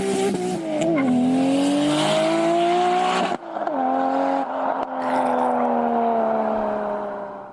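An inline-six car engine revs loudly and close, its droning tone climbing steadily, cutting off briefly, then holding a high sustained pitch before easing at the end.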